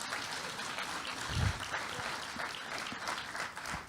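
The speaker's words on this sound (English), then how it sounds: "Please, a round of applause." A lecture hall audience gives a round of applause, steady clapping at a fairly quiet level with one low thump partway through.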